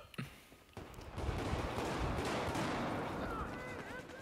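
Gunfire in a Battlefield 4 firefight: one or two sharp shots, then a sustained dense rattle of distant shooting and rumble, with voices talking over it.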